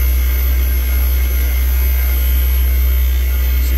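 A Daikin VRV inverter compressor runs with a loud, constant low-pitched hum and a steady mechanical drone, unchanging from start to finish.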